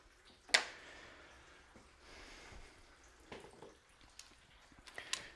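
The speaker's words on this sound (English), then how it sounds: "We'll let that finish draining." Coolant from a Chevy Cruze drains and drips during a leak repair: faint, sparse liquid drips and small splashes, with one sharper plop near the start, over quiet background.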